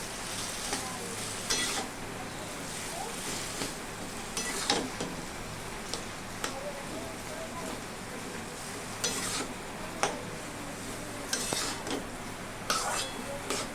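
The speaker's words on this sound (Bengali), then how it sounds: "কচু শাকটা নেড়ে চেড়ে মোটামুটি 5 থেকে 7 মিনিট রান্না করে নেব আমি হাই ফ্লেমে" Taro leaves being stirred in a pan over a high flame, with a continuous low sizzle broken by intermittent scrapes and clinks of a utensil against metal, close by and moderately quiet.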